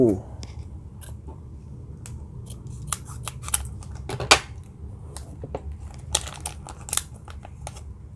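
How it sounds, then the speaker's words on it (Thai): Scissors snip through the sealed plastic package of a Buddhist amulet coin, a run of sharp close clicks and crackles of plastic, with a faint low hum underneath. "แกะจากซีนให้ดู"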